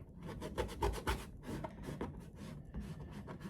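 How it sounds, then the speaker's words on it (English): Acrylic paint being scraped and spread across a canvas with a Colour Shaper tool, a close, dry rubbing rasp in repeated strokes of uneven rhythm. "now I'm just kind of scraping it in there and getting some different colors, mixing it with that black"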